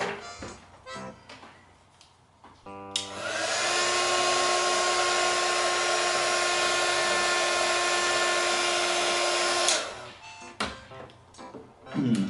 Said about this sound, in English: So I'll use my heat gun.